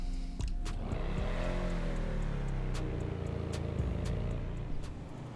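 A Benefactor Schlagen GT sports car in GTA Online, a steady engine drone with a rising and easing pitch, sharp ticking clicks scattered over it, continuous and moderately loud, no voices.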